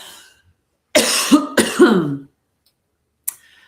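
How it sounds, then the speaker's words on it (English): A person coughs in two sharp, close, throaty bursts followed by a brief clearing sound, with silence around them and no speech. "Stop coughing a little bit for a minute here."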